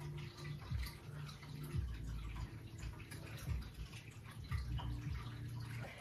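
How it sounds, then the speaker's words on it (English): A dogs' running water fountain trickles and burbles indoors, a continuous close splashing flow with soft dripping accents repeating every second or so, alone without talk. "Hear that water? That's their water fountain."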